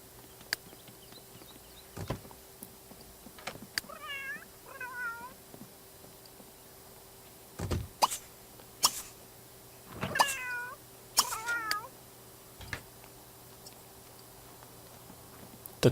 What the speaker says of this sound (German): Dass man die Katzen die Pfützen wegsaufen lassen.